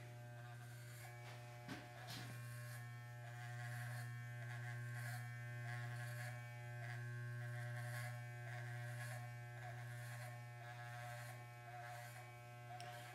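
Electric hair clippers buzz steadily through a self haircut, a constant close hum with faint shifts as they move through the hair, heard alone with no talking.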